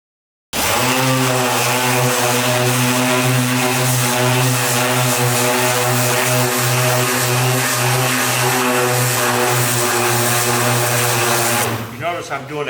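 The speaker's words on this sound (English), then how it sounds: "I always start with a DA with some 80 grit on it" A dual-action sander fitted with 80 grit works a Corvette parting line, starting abruptly into a loud, steady droning buzz that holds for about eleven seconds before winding down.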